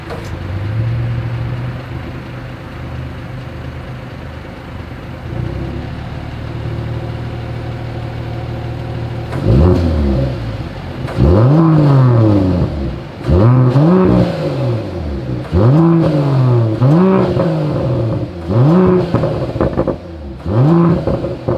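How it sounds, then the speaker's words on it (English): A 2021 Mercedes-AMG GLE Coupe's performance exhaust idles with a steady low drone, then revs hard repeatedly, each blip rising and falling in a loud, rasping roar. "As always, here is that exhaust clip"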